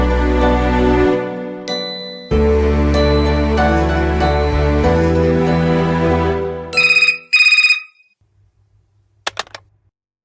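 A home landline telephone rings in a TV serial scene, beginning with a melodic ringtone and then electronic ringing bursts that break off into near silence and a last faint chirp.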